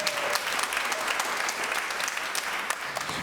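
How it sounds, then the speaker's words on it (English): Comedy club audience in New York gives a brisk, continuous round of applause, dense overlapping claps filling the room at a steady level throughout. "Give a round of applause if you've been to Chinatown"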